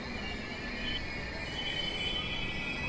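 A train runs through a railway station with a steady metallic rumble and a high, sustained wheel squeal at moderate loudness. No one speaks.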